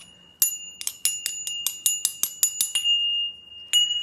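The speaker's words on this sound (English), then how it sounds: "All right, Tibetan bells. I love them." A series of bright, ringing Tibetan bell strikes in a quick steady sequence in a yoga studio, each tone sustaining and overlapping, followed by a pause and one final strike.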